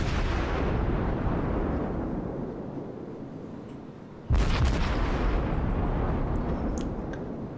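Heavy cannon blasts from a Myoko cruiser in World of Warships, with one deep, loud boom after a fading rumble of earlier fire and a long rolling tail.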